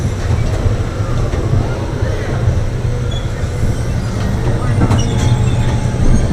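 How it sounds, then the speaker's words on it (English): A Tilt-A-Whirl ride at Michigan's Adventure amusement park in Muskegon, Michigan, a loud, steady rumbling mechanical roar with rattles as it spins, close throughout, with riders' voices mixed in. "Oh, it's gonna spin super fast."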